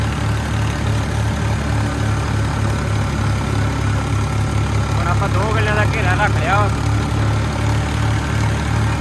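A tractor engine runs at full throttle with a loud, steady low rumble and a pulsing throb, while someone talks briefly over it partway through.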